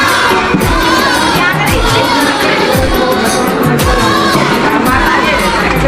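A dense crowd of devotees at Turri Dham temple during the month of Savan fills the air with loud, continuous chatter, shouts and cheers, close by and unbroken.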